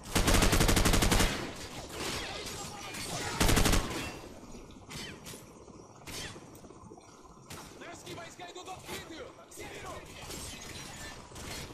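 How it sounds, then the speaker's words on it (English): Gunfire rattles in a Modern Warfare video game, with loud bursts of automatic fire at the start and again shortly after, then sparser, quieter shots and clatter continuing in the background. "Someone's shooting from over there."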